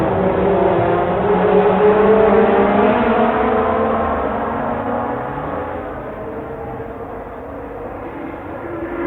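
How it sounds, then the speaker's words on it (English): A touring race car's engine howls loud and steady as its tyres spin through the final corner, the pitch sweeping up then easing down, with crowd or track noise blended beneath. "he's lighting up the tyres there as he comes round the final corner"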